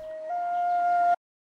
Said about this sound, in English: Another flute.